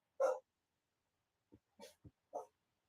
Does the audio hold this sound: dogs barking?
yes